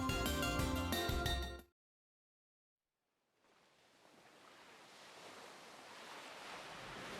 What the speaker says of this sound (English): listening to the sound of the waves calling to me